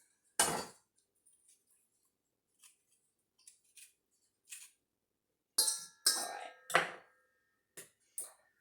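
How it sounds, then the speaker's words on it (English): Knife slicing an avocado in its skin and pieces dropping into a bowl, a quiet kitchen sequence of sharp scrapes, taps and soft clinks spaced out with short silences. "So I just, slice my avocado in the skin, and then I'm putting it in the bowl."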